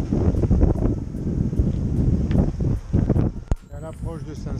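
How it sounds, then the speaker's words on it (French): Strong 20-23 knot Mediterranean wind roars against the microphone aboard a sailboat approaching port, with buffeting gusts and rushing air under a spoken voice. "Un peu plus de vent à l'arrivée, c'était prévu."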